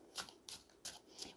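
Tarot cards are shuffled by hand in four quick, soft riffling bursts spaced evenly apart, close and quiet, with no voices.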